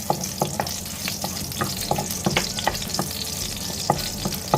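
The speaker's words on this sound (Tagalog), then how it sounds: "simulan na natin maggisa" Ginger sautéing in hot oil for salmon sinigang gives a steady, close sizzle, broken by sharp clicks and scrapes of stirring spaced through the whole stretch, with no talking.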